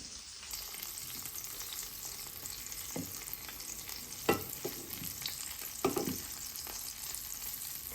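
Food fries in a pan with a continuous soft sizzle, broken by occasional sharper pops and utensil scrapes; no voices.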